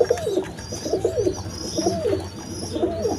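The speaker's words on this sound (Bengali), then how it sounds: "এখানে এক পেয়ার দামাসি কবুতর আছে দেখেন কোয়ালিটি সম্পন্ন কবুতর" Damascene pigeons coo in a loose repeating rhythm, about four soft rolling calls close by, over a steady low background hum.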